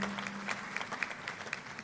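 Lecture audience applauding at the close of the 12th RP Bafour lecture, a dense, steady wash of clapping from a large crowd, fairly close and continuous throughout.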